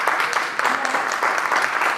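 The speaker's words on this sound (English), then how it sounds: "please give yourselves a round of applause" Steady, dense clapping from an audience at a community idea-exchange meeting in Hyde Park fills the room, loud and sustained with no pause.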